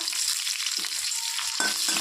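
Green chilies sizzle with black cumin in hot mustard oil, a steady close frying hiss with a few short spits and clatters near the end, no voices.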